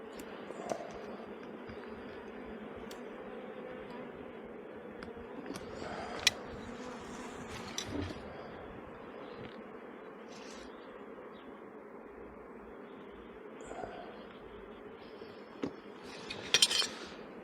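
Honeybees hum in a low, continuous drone from an open beehive during queen-rearing work as a frame goes in among the brood, with occasional soft clicks and knocks of hive handling and no talk.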